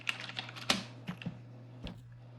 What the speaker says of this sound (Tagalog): I-type mo itong mga numero sa PC.